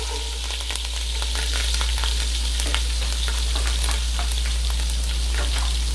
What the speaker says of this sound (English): Pretty much seasoning the oil.